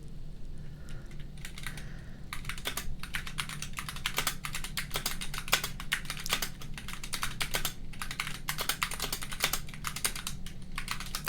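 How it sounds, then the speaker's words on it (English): Steady, rapid keystrokes on a computer keyboard, close and clear over a low background hum, continuing without pause and with no voices. "See, now you get to hear me do some typing."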